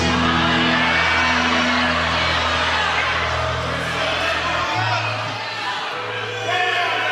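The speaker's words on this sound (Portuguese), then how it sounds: "dê mais um grito de glória a Jesus" A church congregation shouts glory to Jesus together during a sermon, a loud, dense crowd of voices and whoops that holds steady for several seconds before easing slightly.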